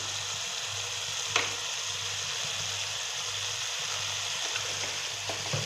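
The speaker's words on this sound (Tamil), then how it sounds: "நல்லா வதங்கட்டும்." Steady oily sizzle of ingredients sautéing in a pan for a brinjal gravy, a continuous close frying hiss with a couple of faint clinks, no talking.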